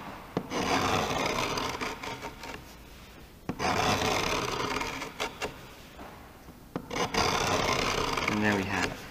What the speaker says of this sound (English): I'm gonna have to scribe this in quite deep